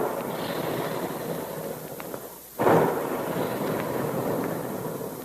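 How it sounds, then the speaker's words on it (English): Radio sound effect of big guns firing: a single heavy boom bursts out of a steady hiss partway through and then trails off into rumbling noise. "And there go the big guns"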